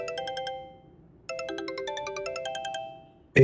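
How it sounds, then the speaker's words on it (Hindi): A mobile phone ringtone signals an incoming call, a bright electronic melody of quick chiming notes played in two repeated phrases, clear and close, with no one talking over it. "जासिम का फोन आ रहा है इस वक्त।"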